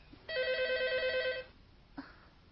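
A telephone rings once in a quiet indoor scene, a single electronic trilling burst of about a second, followed by a short soft knock.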